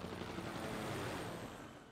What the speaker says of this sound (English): Helicopter's gonna take this guy.